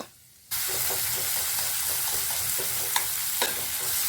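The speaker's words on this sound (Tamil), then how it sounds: "இந்த தக்காளி நல்லா மசிஞ்சு கூழ் பதம் வரணும்" Tomatoes for pav bhaji sauté in a pan over a medium flame, a loud steady sizzle and hiss that starts abruptly and runs on with faint stirring scrapes, no voices.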